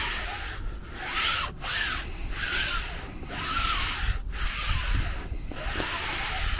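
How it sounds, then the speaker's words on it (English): A microfiber cloth wipes firmly across a Polestar 2 car seat in a steady, continuous scrubbing rub with brief pauses between strokes, close and fairly loud, with no talking. "Just give it a nice wipe."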